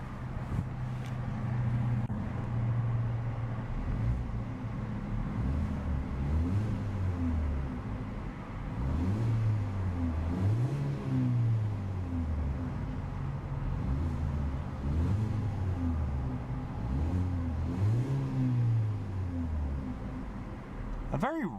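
A 2014 Hyundai Veloster Re:Flex's 1.6-liter engine revs up and down in repeated short bursts, each rise and fall clearly audible over a steady idle, with a raspy note from the central rear exhaust.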